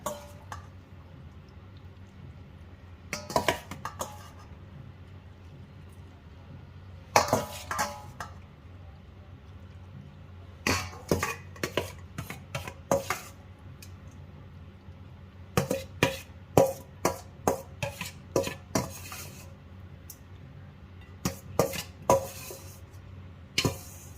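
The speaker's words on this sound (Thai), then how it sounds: "โอเคเดี๋ยวตักเสิร์ฟใส่จาน" Thai instant noodle salad with shrimp and fermented fish sauce is served onto a plate, with scattered clinks and clatters of utensils against dishes in short bursts separated by quiet gaps.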